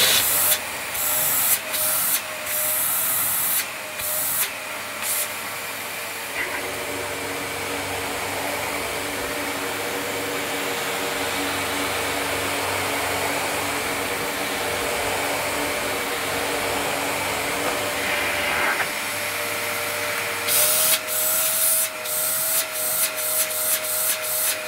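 Refurbished Dyson DC33 Multi Floor vacuum cleaner running with a steady loud whoosh of suction, framed by brief clicks and handling noises at the start and end.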